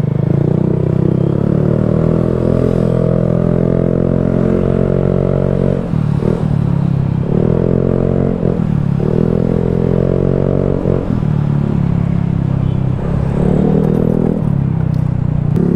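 A motorcycle fitted with a V-Lane muffler runs loud and close, its rumbling exhaust note repeatedly revving up and dropping back in several throttle blips over a constant low drone, with no talk.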